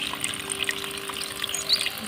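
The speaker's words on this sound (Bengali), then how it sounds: "দেখতে পাচ্ছেন মোটরটা চালু হয়ে গেছে ও মাই গড এত সুন্দর করে পানি বের হয়" Water from a motor-driven pump pours out in a steady, continuous trickling stream, close and moderately loud, with a faint steady hum beneath and no voices.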